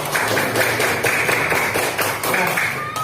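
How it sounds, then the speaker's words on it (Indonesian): A classroom group claps in applause, a dense run of loud, quick hand claps that carries on evenly for a few seconds with no talking. "tepuk tangan"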